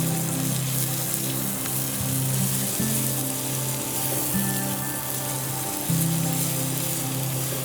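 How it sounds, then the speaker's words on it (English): Bell peppers seasoned with salt and masala fry in hot oil in a pan, a steady, even sizzle holding close and moderately loud throughout, with a low hum running underneath and no voices. "we want to allow the peppers to fry up in that oil for about 2 to 3 minutes"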